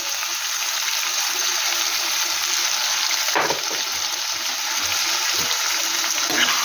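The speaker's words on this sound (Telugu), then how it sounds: "ఈ ఆయిల్లో మంచిగా ఫ్రై అవ్వాలి ఫ్రెండ్స్ చికెన్ లివర్" Chicken liver frying in oil in a pan for a curry, a steady loud hiss that fills the whole stretch, with a brief clatter partway through and no speech.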